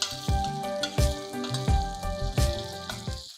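Hot oil crackles and sizzles in a pan as a tempering fries, while a spoon taps the rim several times, ringing out metallic notes, close by with no voices.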